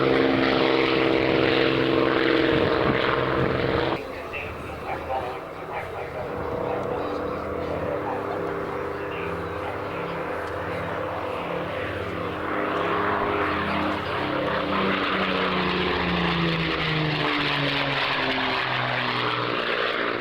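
A propeller aircraft at the Mildenhall Airshow, its engines giving a loud, steady drone that swells and shifts in pitch as it passes, heard alone without talk.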